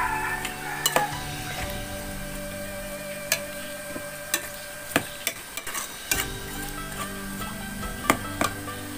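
Red shallots fry in a pan for a chicken curry with glass noodles, a steady sizzle broken by repeated sharp clinks and scrapes of a utensil stirring against the pan.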